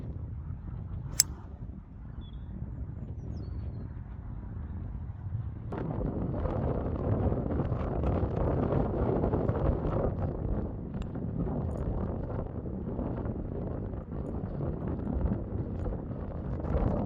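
Wind blows across an open golf course, with gusty, low rumbling buffeting that grows stronger and stays steady after a brief calmer start.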